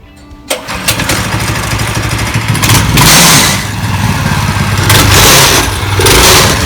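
A homemade, no-weld go-kart engine starts up and runs loudly up close during a test drive, revving and surging in waves with a rough mechanical rattle.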